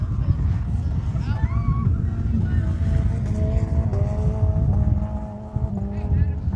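Front-wheel drive race cars run at Kahnawake, their engines droning and whining under an announcer's steady commentary, with pitch sweeps as cars pass nearby.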